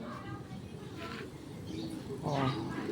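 Racing pigeons coo softly in short repeated bursts during a training session in San Fernando, Pampanga, against a busy background.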